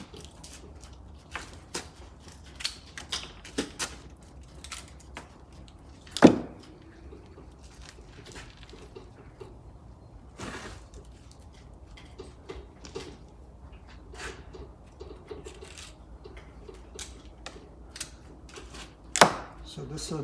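Pruning shears snip back the twigs of a Japanese maple, giving sparse, crisp clicks and cuts with a few louder snaps at irregular intervals in a quiet setting.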